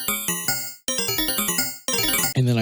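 Stacked synthesized bell patches play the same MIDI line together, giving bright, harmonically dense chord strikes in a quick repeating rhythm with sharp attacks and short decays, loud and clear with no voices.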